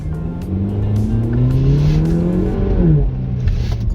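A Haval H6 GT engine in race mode revs and accelerates, its pitch climbing steadily and loud throughout, with a brief drop near the end as it shifts.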